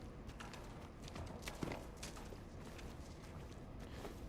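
Horse hooves clip-clop at a slow walking pace in Silent Hill 2 near the gallows, faint and scattered against a steady wash of ambient noise, with no one speaking.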